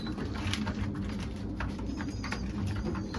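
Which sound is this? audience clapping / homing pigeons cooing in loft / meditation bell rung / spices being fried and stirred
homing pigeons cooing in loft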